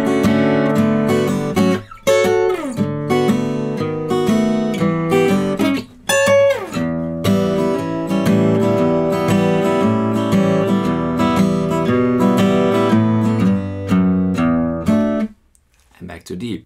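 An acoustic guitar strums a sequence of chords with clear rhythmic changes, ringing out for most of the passage before stopping near the end.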